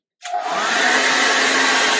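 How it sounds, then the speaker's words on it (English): A hairdryer switches on abruptly and runs with a loud, steady blowing whir that holds without a break, alone with no talk. "And he's hiding from the hairdryer."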